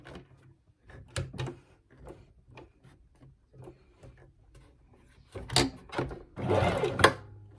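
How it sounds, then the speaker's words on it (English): Sewing machine running a straight stitch to close a hole in pyjama bottoms: short clattering bursts of stitching with pauses, then a longer, louder run near the end, close by. "now to finish off you need to close that hole. Back to straight stitch."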